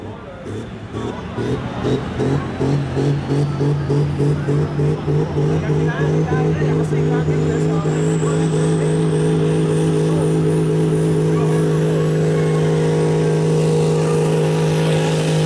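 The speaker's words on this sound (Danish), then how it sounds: "Han kører med en 6 liters motor, det vil sige, at han kan øge hans omdrejninger til 3200" A 6-litre engine on a machine at a farm pulling contest revs up and holds a loud, steady high-rev drone with a climbing whine, close and sustained, with voices over it at times.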